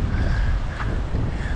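Strong wind buffets the microphone aboard a fishing boat at sea, a loud, rough rumble with a steady hiss that lasts the whole short moment.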